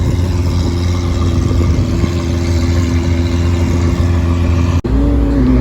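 A chrome turquoise Lamborghini Aventador S at a car show, its engine rumbling loud and steady close by with a continuous deep drone and slight rises in pitch, ending with a brief dropout.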